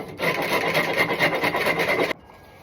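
A rasp files down a wooden axe handle in quick back-and-forth strokes, loud and close, a dense grating scrape for about two seconds that stops abruptly.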